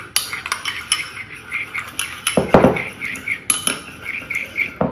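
Spoon mixing a couple of spoonfuls of yoghurt in a bowl, a run of quick, close clinks and scrapes against the dish with a faint bird chirp in the background.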